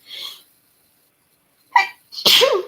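A quick intake of breath and a short pause, then a single loud, close sneeze bursts out.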